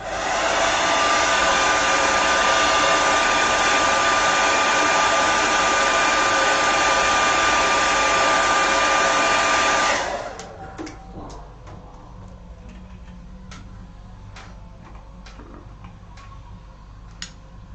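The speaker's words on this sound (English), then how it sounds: "last time for the hairdryer. Here we go, dry it off." A loud hair dryer blows steadily for about ten seconds drying watercolor paint, then switches off, leaving faint ticking and light taps in a quiet room.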